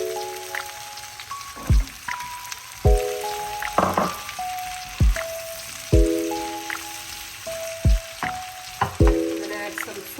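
Green pepper and onion fry in a pan for chicken Manchurian, a crackling sizzle broken by repeated sharp clicks and spatula knocks at irregular intervals, close and moderately loud.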